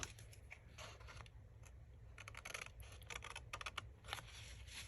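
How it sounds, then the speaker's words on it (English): Scissors snip through paper in quick close crisp cuts, a run of rapid clicks and rustles over a faint background hum while trimming a piece for a mini Christmas journal ornament. "So I'm going to cut this piece off,"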